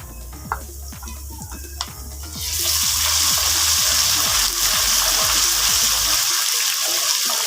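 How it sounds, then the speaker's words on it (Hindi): Ginger garlic paste and onions fry in a pan for potato dum biryani. After a few soft clinks, a loud, steady sizzle suddenly starts and continues close by without pause. "एक मिनट इसको फ्राई कर लूँगी।"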